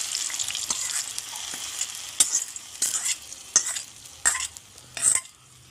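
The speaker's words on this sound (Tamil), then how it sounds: "இப்போ தாளிச்சது இது கூட சேர்த்துக்கலாம்." Hot tempering goes into a radish and pepper kuzhambu with coriander and curry leaves, bringing a hissing sizzle and a series of distinct spoon-stirring strokes, close up and without speech.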